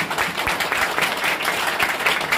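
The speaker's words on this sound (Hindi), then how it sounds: "तो तालियां बजाओगे" A seated audience at a direct-selling mentoring talk claps together, a fairly even patter of many hands at moderate loudness, steady across the short stretch.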